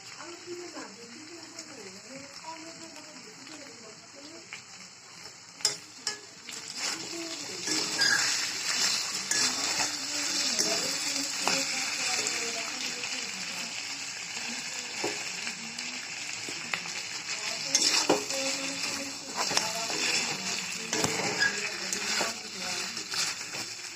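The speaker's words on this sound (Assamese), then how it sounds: "এনেকৈ মাংসখিনি অলপমান লৰাই থ'ব।" Meat being stirred in a frying pan, a steady sizzle and scraping of the spoon running throughout with a voice talking over it.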